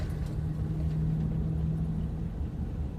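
A 1997 Toyota LiteAce pickup driving along a road in third gear, its engine giving a steady, close low drone and rumble throughout with no variation in pace.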